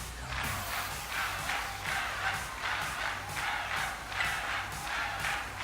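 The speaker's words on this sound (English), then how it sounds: "This crowd's so loud it could wake the dead." A loud crowd cheers at a concert battle in the Pokémon Scarlet video game, a steady roar rising in rhythmic surges over a pulsing low music beat.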